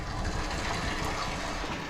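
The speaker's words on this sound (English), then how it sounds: "I also got the water going in that trailer over there" Steady rushing gush of water pouring into a trailer tank, broadband and continuous throughout at moderate level, with no voices.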